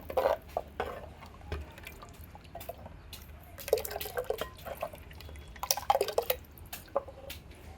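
Salted water boiling in a pot for Kerala-style bangude (mackerel) fish curry: faint, irregular bubbling plops and small pops, quiet and close, with no talking.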